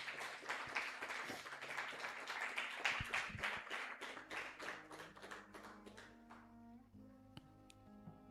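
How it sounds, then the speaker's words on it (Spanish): A church congregation breaks into dense, lively applause after a sermon. The clapping is close and full, then thins out over the last couple of seconds, leaving sparse claps over soft sustained tones. "¿Quién le da un aplauso a esta palabra?"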